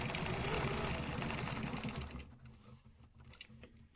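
A sewing machine stitches back along a stencil line, a fast rhythmic needle clatter loud at first, then stopping halfway and leaving faint, sparse clicks.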